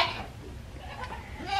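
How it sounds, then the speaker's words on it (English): Rowdy goats in a backyard call out at breakfast time, a few bleats rising over low farmyard noise, fairly close and moderately loud. "just like these rowdy goats that are all standing here ready for breakfast"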